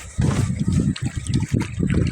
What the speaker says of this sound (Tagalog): Yan po, yung ilog po dito sa Orduha.